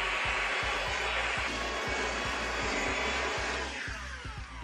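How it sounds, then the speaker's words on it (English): A Black & Decker cordless hand vacuum running steadily at close range, a loud continuous whirring motor roar with a faint rhythmic pulse, easing slightly near the end. "This is the Black & Decker hand vacuum."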